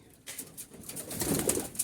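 Jalali pigeons coo softly in a loft, a few low rounded calls rising over a faint background, close and quiet.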